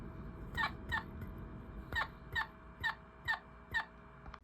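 A Mario question block toy with low batteries chirps in a weak, warbling way, with about eight evenly spaced short chirps over a soft background hum.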